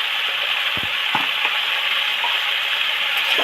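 Hilsa fish curry with chili and turmeric powder sizzling loudly in a pan while being stirred, a constant frying hiss with a few faint scrapes and knocks of the utensil.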